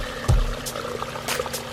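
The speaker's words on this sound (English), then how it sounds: "we're about to give birth to a new waterfalls" Water begins pouring over a newly built pond waterfall, with a brief low splash followed by soft trickling and dribbling close by.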